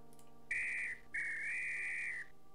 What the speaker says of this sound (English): I think I've got to blow the whistle